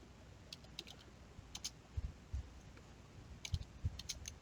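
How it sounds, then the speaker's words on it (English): Slow two-finger hunt-and-peck typing on a computer keyboard: soft, irregular clusters of key clicks with pauses between them, heard close up and quiet, alone with no talking. "I'm a terrible typer. Do the 2-finger hunt and peck."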